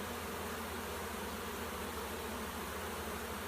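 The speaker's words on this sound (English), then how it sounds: "you can see how many bees are in the hive" A dense, steady drone of many honey bees buzzes around a hive during the hiving of a swarm, loud and continuous with no pauses and no voices.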